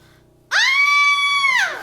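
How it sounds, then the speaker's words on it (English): A woman's loud, sustained scream bursts in sharply after a moment of near silence, holding steady for about a second before trailing off. "we should run towards the screams"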